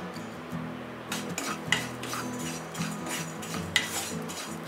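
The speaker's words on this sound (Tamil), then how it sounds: "ஒரு நிமிஷம் நல்லா ஃப்ரை பண்ணி எடுத்துடலாம்." Grated coconut browning with asafoetida and turmeric in a pan for Kerala ladies-finger theeyal, giving a soft, steady sizzle with occasional scrapes and clinks of a spatula on the pan, no talk.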